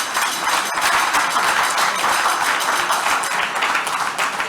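A conference crowd gives sustained applause during closing remarks, many hands clapping in a thick, continuous roar that stays loud and even from start to finish.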